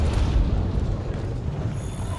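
A video game explosion in Monster Hunter World Iceborne booms as a deep, continuous rumble that stays loud throughout and slowly eases, with no voices over it.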